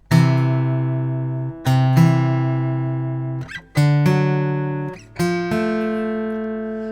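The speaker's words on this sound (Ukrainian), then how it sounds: "Найважливіший інтервал це велика терція. Ось як він звучить." Sustained synthetic tones played one after another, each struck note pairing with another a major third apart, clean and evenly spaced with slight decay.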